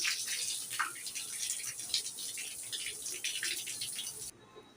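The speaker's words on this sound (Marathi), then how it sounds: "मी गॅलरी धुवून घेते।" Water splashes and pours across a balcony floor as it is washed down at home, a steady broadband wash with scattered splatters lasting several seconds, fairly close, before cutting off at the end.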